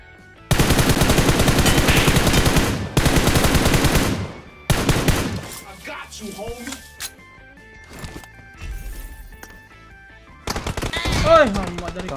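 Gunfire in the battle-royale video game PUBG Mobile: long loud automatic bursts, then scattered shots and quieter in-game sounds, ending with another burst, while players talk over it.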